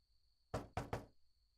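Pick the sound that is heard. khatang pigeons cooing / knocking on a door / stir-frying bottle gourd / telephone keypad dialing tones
knocking on a door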